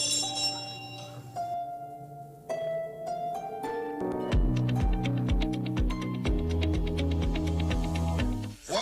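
Hand bell rung during a Trinidad street live stream, a series of bright tonal strikes that settle into rapid, rhythmic clanging, loud and close, with faint talk early on.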